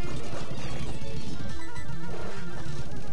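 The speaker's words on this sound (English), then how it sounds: "Azumarill, bite" Pokemon-style video game hit effect for a bite attack by Azumarill, a dense harsh crunching burst filling the clip, loud and alone with no talk.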